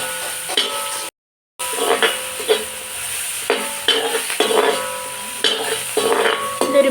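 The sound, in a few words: onions being stirred and sautéed in a pan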